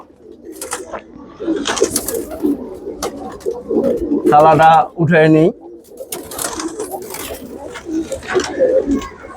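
Pigeons coo in a few loud, close, throaty bursts while being given garlic water, with a person talking over the birds and scattered rustling and clatter around them.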